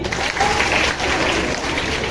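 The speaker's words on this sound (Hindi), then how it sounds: "कमजोर है तो बजा ताली।" A group of schoolchildren claps together, a close, dense burst of applause that carries on evenly for a couple of seconds.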